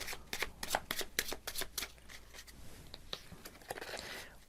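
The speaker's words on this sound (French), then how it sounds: "on mélange" A deck of playing cards being shuffled by hand: rapid, close riffling flutters and slaps in quick succession, then softer sliding and rustling as the deck settles, with no talking.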